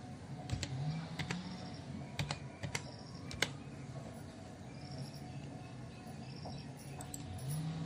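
A name is typed on a computer keyboard: irregular bursts of sharp key clicks, a few louder taps standing out, close and moderately quiet over a low room hum, with no talk.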